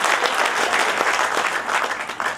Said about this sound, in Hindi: तालियों की गड़गड़ाहट से इस प्रकार सूचित करिएगा